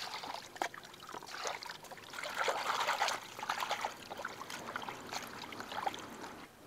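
Fruit is washed by hand in water, making soft trickling, dribbling and light splashing that comes and goes in irregular bursts, close by with no talk.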